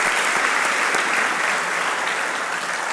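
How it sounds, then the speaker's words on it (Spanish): A church congregation claps together, producing a steady, dense burst of applause that stays loud and even throughout. "Le damos un aplauso a la hermana Andrea, por favor"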